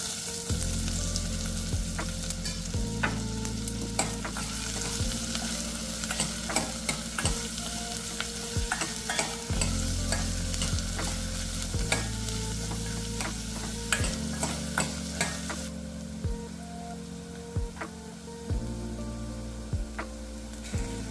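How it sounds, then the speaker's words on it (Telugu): Three finely chopped onions frying in a pan with green chillies for vegetable kurma, giving a steady sizzle broken by repeated scraping stir strokes, close up over a continuous background music bed. "ఇప్పుడు చిన్నగా కట్ చేసిన ఒక 3 ఉల్లిపాయలు వేసుకుందాం."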